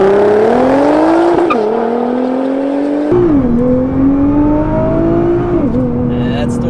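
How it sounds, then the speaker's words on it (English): A Nissan doing a launch control start, revving out then surging hard with tire squeal, the engine pitch climbing through two gear changes with short dips between pulls, loud and close. "We'll test some launch control."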